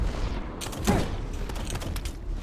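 Enemy gunfire in a sci-fi shooter video game, bursts of rapid shots and impacts crackling throughout over a steady background rumble.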